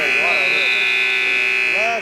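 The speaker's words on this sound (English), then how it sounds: "That's a hit at the last second buzzer" A loud sustained end-of-game buzzer blares for about two seconds at a sports game, a steady electronic tone with wavering undertones behind it.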